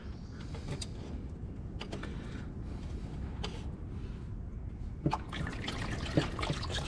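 Transmission oil from a Holden VT Commodore pan dribbling and trickling onto cardboard below, a close, steady liquid patter with a few metallic clicks and creaks as the pan is loosened.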